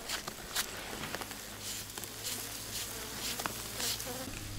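Many honeybees hum in a steady, close buzz around a hive frame during a winter check, with faint soft tapping and shuffling underneath.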